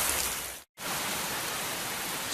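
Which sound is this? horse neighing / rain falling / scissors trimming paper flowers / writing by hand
rain falling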